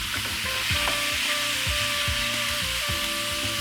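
Chicken pieces frying in a hot pan over high heat with softened onions, a steady loud sizzle broken by repeated scraping stirs, close and without talk.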